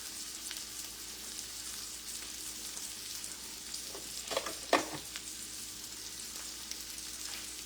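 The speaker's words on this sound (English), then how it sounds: "I add a lot of butter to my steak." Steak sizzles in plenty of butter in a pan, a steady close crackling hiss with a couple of sharper spatters midway, no voices over it.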